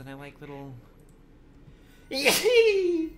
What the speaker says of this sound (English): I have a little sneeze about me